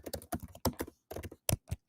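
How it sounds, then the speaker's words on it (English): Quick bursts of keystrokes on a computer keyboard, clustered in short runs with brief pauses between, close and fairly quiet, no voices. "I'll just type it in"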